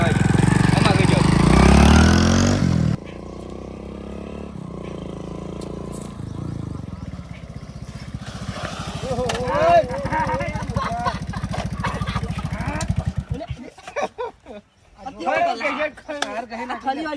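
A motorcycle engine is kicked over and runs with a rough, throbbing idle that revs unevenly, near and loud, then cuts out while several people talk and shout over it.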